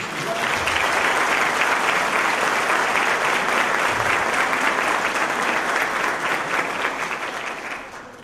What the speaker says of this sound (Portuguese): a quem também peço uma dupla salva de palmas